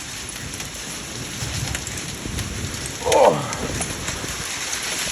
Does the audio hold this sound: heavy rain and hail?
yes